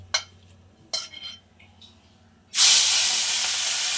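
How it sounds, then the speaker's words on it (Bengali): Fish hits a hot wok and bursts into a loud, steady sizzling hiss that keeps going after a few clinks of metal utensils. "মাছটা ভেজে দিচ্ছে"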